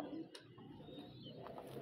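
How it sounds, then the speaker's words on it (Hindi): Low flyer pigeon cooing softly and steadily among other pigeons kept at a pigeon club, faint against a dense background hum. "ये होते हैं लो फ्लायर कबूतर"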